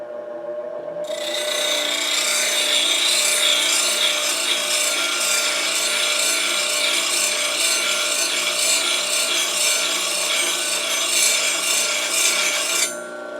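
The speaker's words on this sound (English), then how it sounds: "I'm going to clean up this edge on my coarse 80 grit wheel" A high-speed steel woodturning tool edge is ground on a coarse 80 grit grinding wheel, a loud, continuous close-up rasping grind with faint rhythmic pulsing that starts abruptly and stops near the end.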